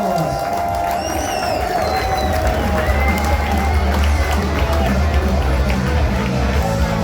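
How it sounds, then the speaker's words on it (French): At a festival event, a crowd cheers and applauds amid steady, dense crowd noise. Whistles and voices are heard over a constant low rumble throughout. "Hey, on applaudit, s'il vous plaît."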